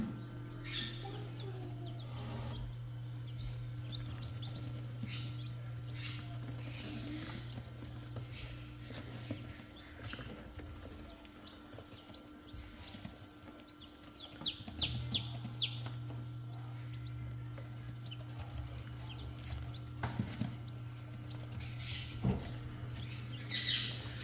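Young chicks in a brooder give off faint, scattered peeps over a steady low hum, heard from a short distance.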